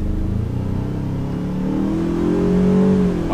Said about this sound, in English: now we're going to do an acceleration from a standstill just to see what it's like getting up to speed